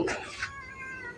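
A temple cat at Wat Pong Chai in Chae Hom, Lampang, gives one loud, close, drawn-out meow that rises and then trails off over about a second. No other sound competes with it.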